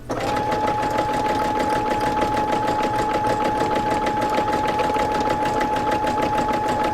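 A sewing machine stitching free-motion machine embroidery runs in a close, steady, fast mechanical whir with a rhythmic needle chatter and a faint constant hum, without pause.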